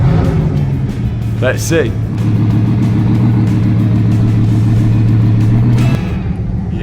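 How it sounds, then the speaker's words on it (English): Bugatti Veyron engine droning steadily on the road with a rising rev near the start, loud and continuous, while a voice speaks briefly over it. "Hopefully now I get a faultless Bugatti driving on the road."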